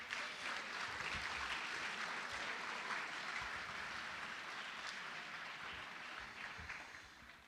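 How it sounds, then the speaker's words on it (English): Audience members at a high school varsity fall athletic awards night applaud the student athletes, a fairly faint, steady roomful of clapping that carries on for several seconds and gradually thins out toward the end. "So one more round of applause for the student athletes tonight."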